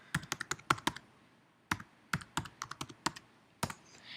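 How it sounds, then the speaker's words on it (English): A computer keyboard typed on close up in quick bursts of crisp clicking keystrokes with short pauses between groups, no voices. "So let's type the first URL,"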